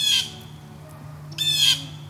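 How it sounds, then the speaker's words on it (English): In Tampa, Florida, a nearby bird gives two harsh, loud squawks about a second apart, with quiet background between them and no speech. "Gosh, that bird."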